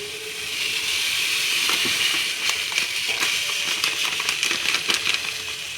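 Wheat rava poured into a hot pan with oil and vermicelli for upma, giving a steady sizzling hiss and scattered light ticks of grains landing, close up and without talk.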